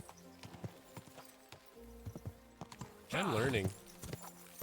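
Horse hooves clip-clop at a steady trot in the medieval game Kingdom Come: Deliverance 2, with a loud neigh partway through, while a person talks briefly over it.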